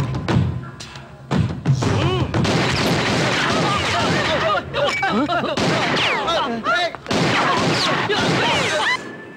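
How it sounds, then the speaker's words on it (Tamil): Repeated bursts of gunfire crack and thud amid a dense, chaotic clamour in a Tamil movie comedy scene, loud and irregular throughout. "சார் உள்ள துப்பாக்கி சுடுற சத்தம் கேக்குது சார்"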